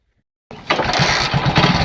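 A motorcycle engine is started from silence, catching abruptly and then running with a loud, close, rough, sputtering idle for the rest of the moment.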